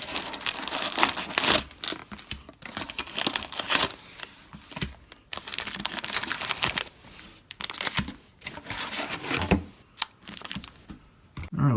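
Foil wrappers of 2017 Panini Donruss football card packs are torn open by hand, giving bursts of close crinkling and ripping separated by brief pauses.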